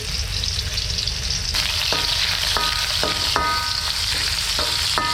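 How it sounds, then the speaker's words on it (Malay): Vegetables sizzle loudly in a hot pan, with a steady frying hiss and intermittent metallic clinks of a utensil stirring against the pan. "Kita nak buat goreng sayur je, tumis-tumis."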